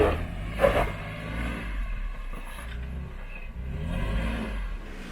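A Jeep Wrangler JK on 33-inch tires crawls over rocks on an off-road track, its engine humming low and steady with a short rev near the start, close by and alone.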